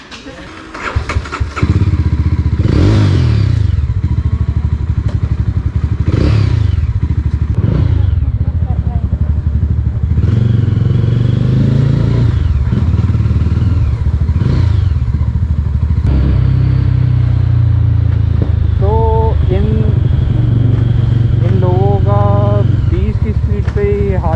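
A Mahindra Mojo motorcycle engine starts and revs repeatedly, then settles into a loud, close running rumble, with brief voices and clatter near the end.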